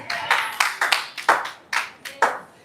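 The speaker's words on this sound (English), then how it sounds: "Can we clap our hands for the ladies?" About eight scattered hand claps from a small audience at a live wellness talk, sharp and fairly close, uneven in timing, with no talking.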